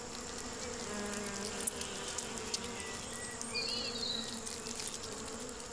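Bees buzz around windfall Williams pears in a traditional orchard, a steady, soft drone with occasional nearer passes and brief louder buzzes over quiet outdoor ambience.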